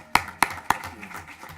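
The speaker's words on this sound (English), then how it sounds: "Yeah, you can clap." Three sharp, separate hand claps ring out in a board of education meeting room, spaced about a quarter second apart and then fading into quiet room noise, with faint murmuring underneath.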